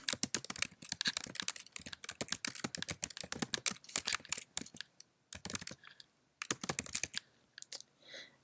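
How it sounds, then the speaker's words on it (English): Fingers tap out a sentence on a computer keyboard, quiet close clicking keystrokes in quick uneven runs with brief pauses, no talking. "So I'm just going to type that here."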